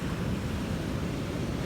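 Ocean waves on the shore, a steady broad wash of surf with wind noise buffeting the microphone and no clear individual breaks.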